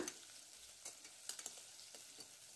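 Onions sauté with curry leaves and salt in a pan, producing a soft, steady sizzle broken by a few light stirring scrapes and taps, with no talking.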